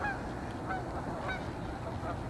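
Geese honking in flight, a flock's scattered nasal honks over a low steady background, fairly faint and distant, with no talking.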